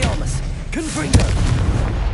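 A Confringo blasting spell detonates in Hogwarts Legacy, a loud booming impact with sharp cracks over rumbling battle noise, with a short voiced shout mixed in.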